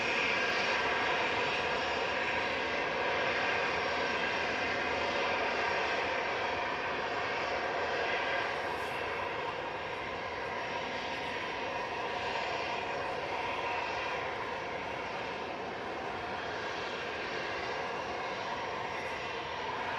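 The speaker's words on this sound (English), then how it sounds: "it will be the Jet 2 that's our next departure" Jet2 airliner jet engines roaring on departure, a dense continuous rumble holding steady and loud for the full length, slightly easing toward the middle, with no talk over it.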